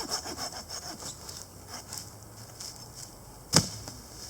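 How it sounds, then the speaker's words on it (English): A hand saw cuts firewood at a campsite, with steady rhythmic rasping strokes close up, ending in a sharp crack near the finish. "saws are great."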